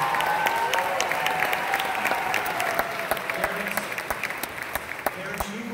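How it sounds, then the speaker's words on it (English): An audience at a high school summer music camp band concert applauds the camp counselors, a dense, sustained wash of clapping filling the hall with occasional louder claps nearby and a voice faintly underneath. "parents, you will especially want to applaud the camp counselors"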